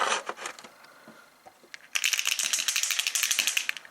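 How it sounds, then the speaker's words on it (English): A small ball bearing rattles inside a shaken paint bottle, sparse clicks at first, then a fast, rhythmic clatter as the shaking becomes vigorous; close and fairly bright. "So shake well until you hear the ball bearing rattle."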